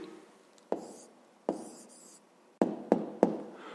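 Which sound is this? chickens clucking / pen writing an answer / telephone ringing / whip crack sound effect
pen writing an answer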